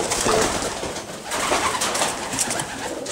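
Racing pigeons coo softly and repeatedly in a loft, several birds overlapping in an enclosed space, with light rustling and no talk.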